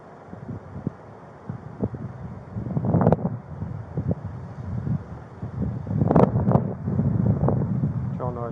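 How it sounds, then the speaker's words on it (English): Gusty wind buffets a microphone outdoors at a roadside police stop, a steady low rumble with stronger bursts, while officers talk over it. "It's really hard to hear out here with this wind"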